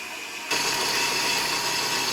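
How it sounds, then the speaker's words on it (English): An electric whisk starts abruptly and runs steadily, whipping chilled full-fat cream for a no-bake motichoor and pistachio cheesecake, giving a close, continuous whirring hum with no voices. "As full fat cream is always supposed to be whisked over ice, the trick here is to chill it as cold as possible and go right ahead and whisk it"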